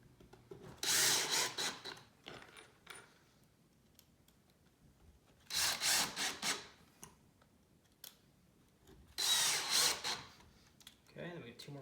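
A power drill bores pocket holes into a wooden farmhouse shoe bench, running in three loud, close bursts of about one to two seconds each, separated by quieter stretches of handling noise.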